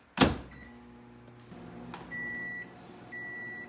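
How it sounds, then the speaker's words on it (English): A microwave oven runs while melting cheese on top of a bowl of chili, a steady low hum with intermittent high electronic tones, following a sharp thump near the start; faint and fairly close. "I put it in the microwave for about 30 seconds."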